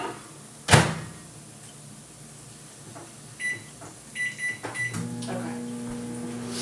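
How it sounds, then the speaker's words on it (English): A microwave oven heats water: a loud door thump, a short run of button beeps, then the steady low hum of the oven running. "And I'm going to heat up in the microwave."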